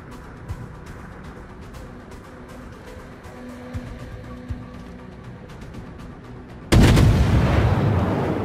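Destroyer guns firing in World of Warships: a few faint distant gun reports over a low engine hum, then a sudden loud, broad blast of naval gunfire that rolls on to the end.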